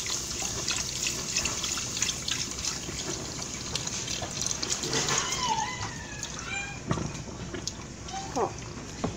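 Hot milk is poured while making homemade ambrosia, giving a continuous liquid splashing and trickling sound that sometimes seems to run under a voice in a home kitchen.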